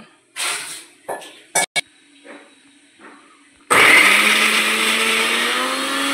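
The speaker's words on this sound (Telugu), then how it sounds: "ఇప్పుడు మనం ఇది మిక్సీ వేసుకోవాలి." A kitchen mixer grinder runs loud and steady for the last few seconds, grinding soaked green peas, after several short knocks and clatters of the jar being set in place.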